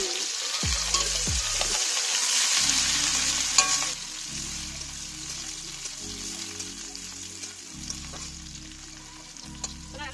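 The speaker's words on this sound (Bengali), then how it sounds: "পেঁয়াজটাকে আমি লাল করে ভাজা" Onions sizzle in a wok at an outdoor picnic and are stirred now and then, a continuous frying hiss with scraping strokes. The hiss is louder at first, then settles lower, with a faint background hum.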